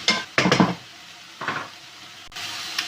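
Chopped garlic and julienned red chilli tossed in a pan, with a few loud clattering stirs of a utensil against the pan over a faint sizzle, then quieter scraping.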